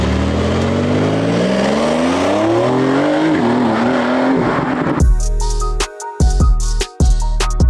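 An Audi RS7 and a Porsche accelerate hard, one engine climbing through rising revs, then sharp loud bursts of exhaust pops and revving close by.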